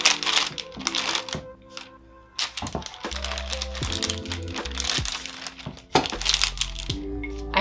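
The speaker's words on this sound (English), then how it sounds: "I'm just going to roll the butter out to make a square." A rolling pin presses butter inside folded parchment paper, making loud close crinkling and crackling with soft thumps and rolling sweeps, uneven and continuous, no talk.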